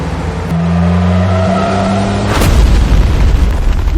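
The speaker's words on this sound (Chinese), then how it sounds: "刚刚山上有爆炸声，" A movie-style explosion blasts a mountainside, a sudden loud boom cutting through the steady drone of a car engine and then breaking into rough, rumbling debris noise.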